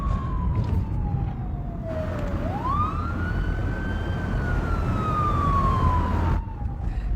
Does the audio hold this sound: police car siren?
yes